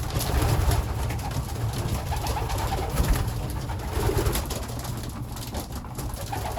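Young and old pigeons coo steadily and close by in a loft, their low throaty calls overlapping continuously with no pause.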